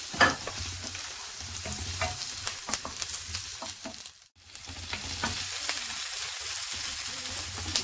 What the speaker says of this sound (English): we need to put the onion, ginger and garlic in there to mix together